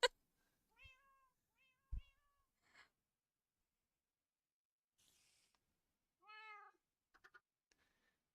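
Cats meowing in the video game Minecraft, several short separate meows spread across quiet stretches, with a few brief clicks and small game noises between them, fairly close.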